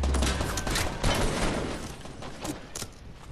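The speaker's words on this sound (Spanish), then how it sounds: "Alguien está disparando." Bursts of gunfire in the Fortnite battle royale game, a dense rattling fusillade that crackles loudly at first and then thins into scattered shots amid constant game noise.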